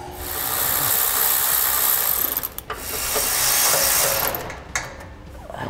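A hand ratchet clicks rapidly and continuously while loosening 15-millimeter bolts holding an exhaust hanger to the frame of a 2016 GMC Sierra 2500 pickup, close and loud, with brief pauses between runs.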